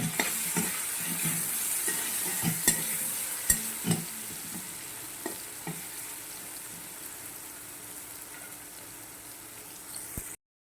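Guar bean curry with turmeric is stirred in a pan: a faint, steady sizzle carries scattered spoon clinks and scrapes that come close together early on, then grow sparse as the frying quiets.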